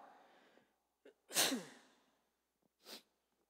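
A single loud, forceful sneeze cuts through a quiet moment during a church sermon, preceded by a soft breathy sound and followed by a shorter, fainter exhalation burst.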